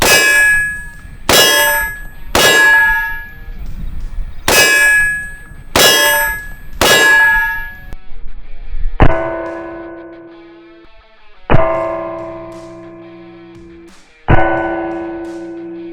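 M855 green tip rounds from an AR-15 with a 16-inch barrel strike steel body armor, six sharp metallic clangs in quick succession, then three separate hits that ring out with long, bell-like decaying tones.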